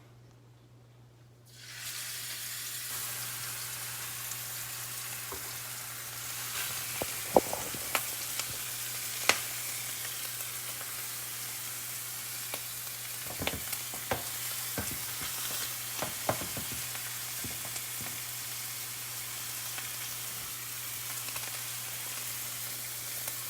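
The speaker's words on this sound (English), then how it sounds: "Now we're gonna take these, an extremely hot smoking pan, and we're just gonna lay them down." Ribs laid in an extremely hot smoking pan set off a sudden loud hiss that holds steady for over twenty seconds, dotted with crackles and pops, close with no talk.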